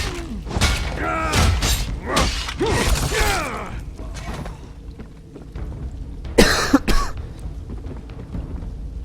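A short burst of harsh coughing breaks out near 6.5 seconds after a stretch of talking and clattering noise, loud and close.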